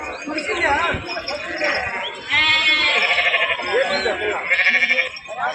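Several sheep bleating repeatedly and fairly close at a sheep market in Gudur, mixed with people talking and the busy bustle of a crowd.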